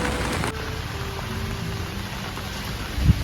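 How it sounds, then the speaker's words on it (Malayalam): Heavy rain pours down as a steady, dense hiss that fills the whole clip, with one brief louder thump near the end. "ഇപ്പൊ പെരും മഴ."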